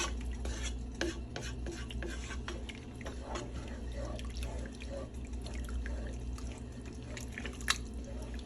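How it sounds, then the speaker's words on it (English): Water being stirred into chicken gravy in a cooking pot, giving soft continuous sloshing and scraping with occasional light clinks of a utensil against the pot, quiet and steady with no talk. "Water, and just stir it all together."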